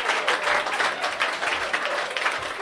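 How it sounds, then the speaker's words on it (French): An audience at a French stand-up comedy show breaks into steady, close applause, many hands clapping together in a dense, even wash that lasts throughout. "Applaudissez"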